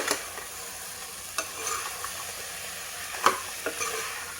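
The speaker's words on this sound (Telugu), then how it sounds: "ఇది ఒక 2 నిమిషాలు అట్లా వేయించుకుందాం." Ginger garlic paste frying in a pan for a goat head curry, a steady close sizzle with occasional scraping stirs and clicks of a spoon against the pan, no talking.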